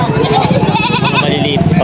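Young goats at a livestock market in Padre Garcia, Batangas, let out wavering bleats close by while someone talks over them.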